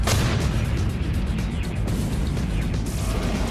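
An M1 Abrams turbine-powered main battle tank fires its cannon outdoors, a loud sustained blast and rumbling roar that fills the whole moment with no voices.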